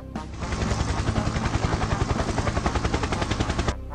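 Helicopter rotor blades thump in a fast, steady rhythm, loud and close, starting abruptly and cutting off near the end.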